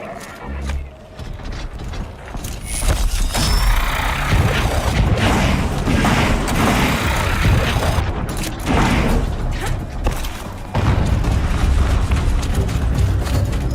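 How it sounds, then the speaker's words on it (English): An explosion in the video game Horizon Zero Dawn: a loud, sustained rumbling roar thick with low booming energy and mechanical clatter, continuing without a break and with no voices. "An explosion."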